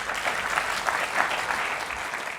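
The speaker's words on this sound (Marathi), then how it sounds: "जोरदार टाळ्या झाल्या पाहिजे त्यावर." Steady applause from a seminar audience at an entrepreneurship event held at a senior college, dense hand clapping filling the room evenly for its whole length with no voices over it.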